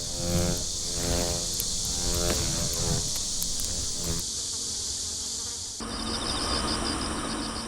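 Dense buzzing of giant hornets at tree sap in a bamboo forest fills the clip continuously, a loud, close droning hum that shifts in texture partway through, with no voices.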